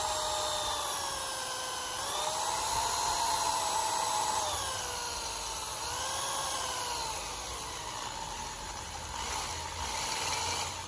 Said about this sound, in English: using those little divots I just made to drill some quarter inch holes in here